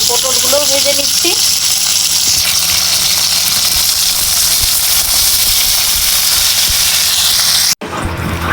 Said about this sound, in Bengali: এই যে পটলগুলো ভেজে নিচ্ছি।